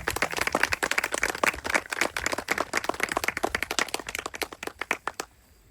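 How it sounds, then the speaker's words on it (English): A small outdoor audience at a Gettysburg reenactment claps, individual hand claps distinctly audible in a lively, uneven rhythm before stopping abruptly. "How about a round of applause for these folks?"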